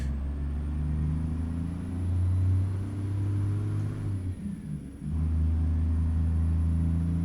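A modded International 9400 semi truck in American Truck Simulator slows on its Jake brake, a loud, low engine rumble that holds steady, dips briefly, then surges back.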